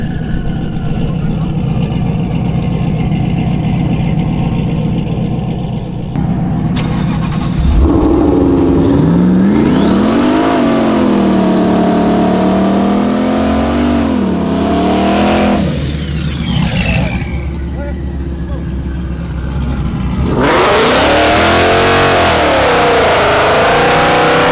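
A turbocharged Camaro and a supercharged Mustang drag racing: loud engines rev hard with rising and falling pitch sweeps, a spinning launch and roaring runs, while people talk over the noise.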